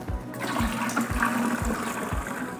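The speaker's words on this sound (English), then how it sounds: "I'm going to start filling up my measuring cup" Alkaline ionized water at pH 9.5 pours into a glass vase, a splashing stream with rhythmic gurgles and low thumps, close and fairly loud, with no speech.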